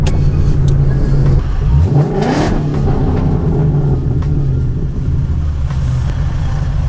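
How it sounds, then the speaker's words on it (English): A Ford Mustang with a 3.7 V6 revs through its exhaust, a loud close engine note that climbs sharply in one rev around two seconds, then settles into a steady rumbling idle with no talk. "Your Mustang sounds good."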